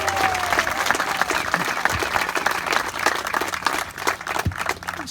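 A crowd applauds at the outdoor pickleball courts ribbon cutting in Ocean Pines, Maryland, with steady, dense clapping filling the whole stretch and a few faint voices mixed in.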